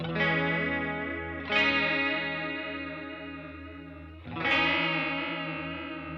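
Electric guitar played through a Walrus Slotva reverb pedal with a tightened chorus effect, two strummed chords each ringing out and slowly fading with a shimmering, modulated tail, loud and alone.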